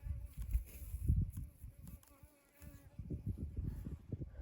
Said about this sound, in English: There's some kind of buzzing insect right around me here.